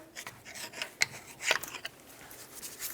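A pry bar scrapes and grinds against a rear brake caliper on a Ford F-450, with faint, close rubbing and a couple of sharper metallic scrapes, quiet and with no speech.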